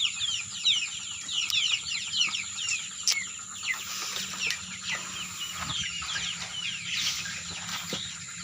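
Young chickens clucking and cheeping together in a simple brooding pen kept beneath a house, with a continuous, busy chorus of close chirps over a faint steady hum.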